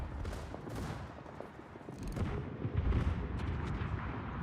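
Secondary battery guns firing from a warship in World of Warships: a run of booming volleys and rumbling blasts that build to louder, denser salvos in the latter half, set against steady battle noise.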